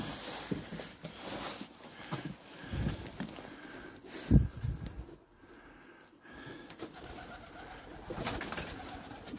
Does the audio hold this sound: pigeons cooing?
yes